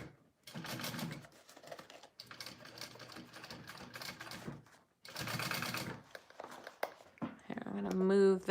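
A home sewing machine stitches up a Ludlow wristlet bag in several close, steady runs separated by short pauses, each burst a quick mechanical whir with a brief higher mechanical sound near the end.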